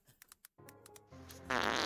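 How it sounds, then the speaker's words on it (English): Recorded farts play in quick succession, a few short pops followed by a rising, buzzing sustained blast that grows louder toward the end. "Every single fart."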